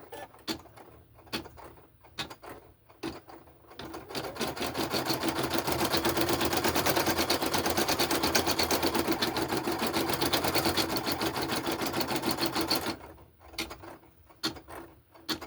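A computerised embroidery machine stitches white thread outlines on felt for small voodoo-doll pieces, a steady fast mechanical whir with clicking after a few scattered clicks, then stopping into sparse clicks near the end.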